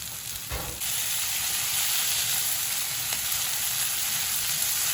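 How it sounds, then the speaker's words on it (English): Butter sizzling in a pan with cooked vegetables: a loud, steady, close frying hiss running almost the whole time, after a short stirring knock at the start, with no voices. "I'm going to be adding a little bit more"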